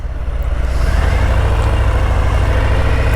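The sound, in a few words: Harley-Davidson FXDR 114 motorcycle engine rumbling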